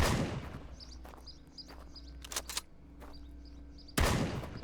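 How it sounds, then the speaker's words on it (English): Shotgun blasts in the shooter game Road to Vostok: a sharp loud report at the start and another near the end, with quieter clicks, shuffles and handling noises between them. "Let's see how the shotgun goes."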